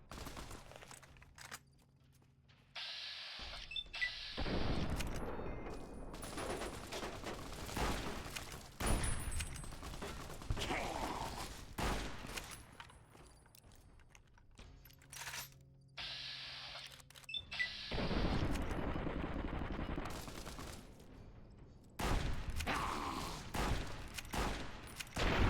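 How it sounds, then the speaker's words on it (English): A brush gun fired in Fallout New Vegas sounds in bursts of heavy shots with clicks and handling noises between them, several loud rounds clustered in two main stretches, with no talking. "Your brush gun is still an absolute monster here"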